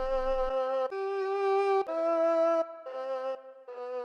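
The Aru, an ethnic wind-like instrument from the Ethno World 6 bank in Kontakt, plays a short melody of held, airy tones, each note sustained about a second with clear gaps, alone and fairly close.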